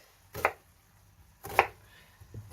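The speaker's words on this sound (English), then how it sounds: "Gives us time to chop up some of this other stuff. So the onion next." Knife chopping an onion on a board for beef mince chilli, two sharp, isolated cuts about a second apart, close and crisp, with a fainter tap at the end.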